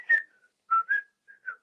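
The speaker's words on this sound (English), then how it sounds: "We're almost to the part where I start to whistle." A person whistles a short show theme tune: five or so clear, bright notes in a quick, lilting phrase with small gaps between them, close and solo with no talking.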